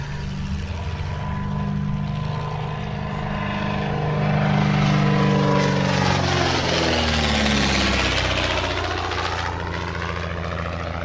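A vintage Art Deco propeller aeroplane, a post-war air racer, drones loudly overhead, its engine note swelling and then shifting pitch as it passes close by, with no talk.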